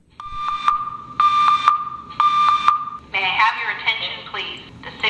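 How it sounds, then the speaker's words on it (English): A building fire alarm sounds three loud, steady electronic tones with short gaps, followed by a recorded voice announcement. "This is what the fire alarm sounds like."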